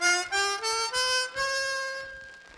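A chromatic harmonica plays a slow run of octaves, each sustained note bright and reedy and separated by soft breaths. The line climbs step by step and then fades out, with no other sound behind it.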